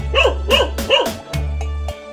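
A dog barks three times in quick succession near a house in a Vietnamese village lane, loud sharp barks spaced about half a second apart, with a steady low hum underneath and then a quieter pause.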